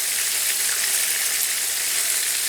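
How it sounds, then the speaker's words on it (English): Calamari rings frying in hot oil, a dense, steady crackling sizzle that stays loud and even from start to finish with no talking. "any liquid, once the liquid hits oil, it splatters"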